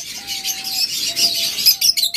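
Violet opaline pet birds at a bird market give a thin whistled call followed by several bright, quick chirps, close by and clear over a quiet background.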